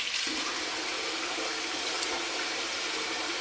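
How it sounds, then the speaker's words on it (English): Tap water runs steadily into a bathroom sink as a face is rinsed before shaving with a safety razor, a close, continuous splashing rush with no talk. "We'll give our face a bit of a rinse."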